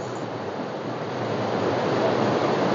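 Steady rushing water of a waterfall beside a mountain trail, a continuous broadband roar that swells slightly louder toward the end, with no voices.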